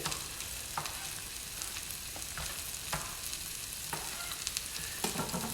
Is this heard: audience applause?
no